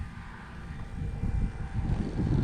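An E-flite Carbon-Z T-28 RC airplane flies with a steady electric drone that slowly grows louder, mixed with wind rumble, with no voices over it.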